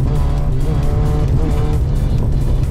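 A Citroën AX drives fast with its engine droning loud and close in a steady high-revving tone, tire and road noise rushing underneath the whole time.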